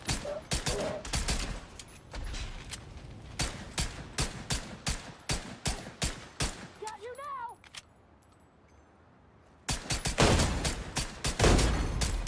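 Gunfire in the video game The Division 2: rapid bursts of shots crack repeatedly in close succession, pause briefly amid quieter game sounds, then resume in a dense loud volley.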